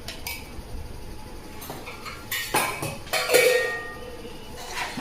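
Chicken biryani ingredients are mixed with yogurt in a metal pot, making scraping and clinking sounds of a spoon against the pot that grow louder in short bursts, with no talking.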